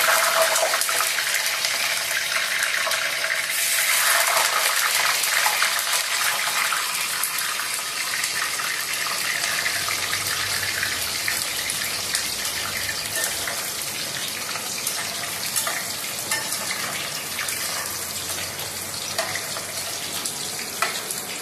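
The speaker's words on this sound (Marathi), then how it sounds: "हे बघा अशा प्रकारे आपलं पनीर हे आपण फ्राय करून घ्यायचं" Paneer pieces frying in hot oil, a steady loud sizzle and hiss running throughout with no one talking.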